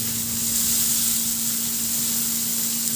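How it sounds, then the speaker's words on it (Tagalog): Ginger, garlic and onion sautéing in a pan of leftover oil from frying pompano fish, an even close sizzle that runs steadily throughout with no talking. "Igisa ko na rin muna yung luya at bawang."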